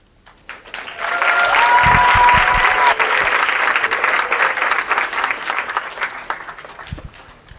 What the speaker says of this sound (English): Another round of applause for Belarus for the amazing presentation that they have done